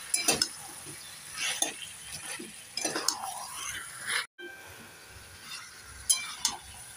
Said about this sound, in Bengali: আম পাতাগুলোকে দিয়ে দেবো, একটু নেড়ে চেড়ে দিয়ে দেবো